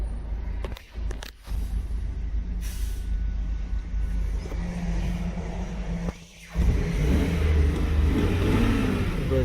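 A 2004 GMC Yukon engine cranks and catches, then runs with a steady idle and a rising rev near the end, loud and close, with a brief hiss or clunk early on and no talking.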